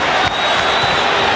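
A basketball crowd at the Delta Center during the 1998 NBA Finals, Jazz versus Bulls, roars in a loud, dense, sustained wash of noise that stays steady throughout.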